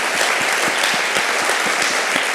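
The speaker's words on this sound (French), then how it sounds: "On peut applaudir très fort Laurent Godet." An audience applauds author Laurent Gaudé after his reading, producing a dense, steady wash of many hands clapping close by, sustained throughout without a break.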